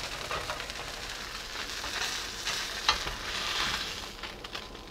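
Salmon steaks sear in a hot pan with a steady, moderately loud sizzle, a sharp tap near the middle and brief swells of crackle, no voices.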